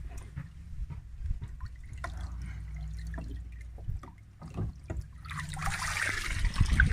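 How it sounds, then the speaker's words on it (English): Excess water drains and drips out of spa filters pulled from a hot tub, with scattered close drips and trickles that build into a louder splashing rush at the end. "Let any excess water drain out of them."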